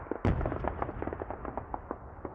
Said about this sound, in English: Going to ground and starting to lay in mortars